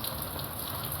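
Rain falls in a soft, steady patter, faint and even, with no voices.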